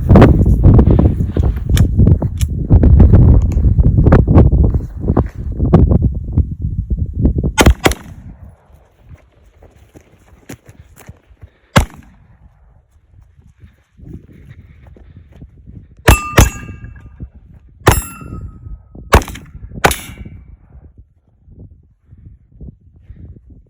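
Tokarev pistol shots striking a 1/4-inch steel plate outdoors: after loud rushing noise at the start, several sharp, well-spaced shots ring out with bright metallic clangs, some in quick pairs.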